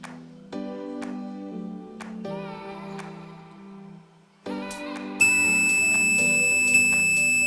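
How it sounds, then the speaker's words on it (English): Several electronic multimeter tones follow one another during a wire continuity test, ending in a sustained high-pitched beep that holds steady for the last couple of seconds. "So now as you can hear that next beep, the whole wire is good."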